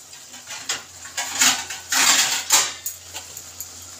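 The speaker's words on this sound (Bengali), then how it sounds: "এবার এটাকে আমি ঢাকা দিয়ে দেব" A lid is set on a cooking pan of elephant foot yam on a gas stove, producing a series of metallic clinks, clatters and scrapes in irregular bursts, close and fairly loud.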